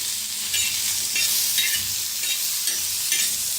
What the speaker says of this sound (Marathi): आता त्याच्यातच कांदा बी भाजून घेऊया तव्यात।